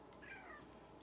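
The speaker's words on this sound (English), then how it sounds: "Oh, my kitty." A cat meows in a short, fairly close call that rises and falls, with a brief higher squeak near the end over a steady low background hum.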